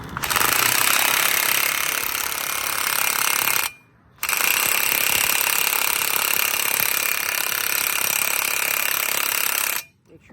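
Battery-powered impact tool hammering on a wheel bearing bolt of an Acura TSX, loud rapid rattling bursts in two long runs with a brief pause between, close up.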